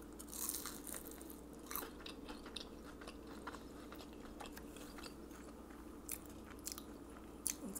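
Crunchy rice cakes with a chewy inside are bitten and chewed up close and quietly, giving soft repeated crunches at an uneven pace over a faint steady background hiss.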